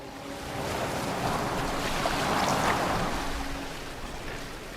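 A boat moves across open water in the video game Assassin's Creed Valhalla, a steady wash of waves and water rushing past the hull with wind, continuous and fairly close, with no talk.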